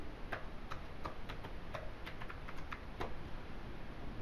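Password being typed on a computer keyboard while setting up SSH access to a DigitalOcean server: a quick run of light, sharp key clicks, fairly close, over a steady background hiss with no talking.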